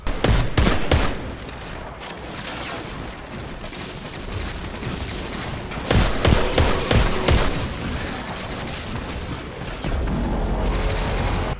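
Dense, rapid rifle fire from the Destiny 2 gun Nameless Midnight rattles on almost continuously, with thudding bursts and booms layered throughout at a fairly loud level.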